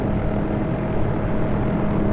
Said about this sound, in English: This is the first helicopter I'm flying in DCS, freeware